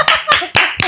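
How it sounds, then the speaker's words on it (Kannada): A few people clap in short bursts at a home birthday party, four quick rhythmic claps close by. "ಹೊಡಿರಿ ಚಪ್ಪಾಳೆ."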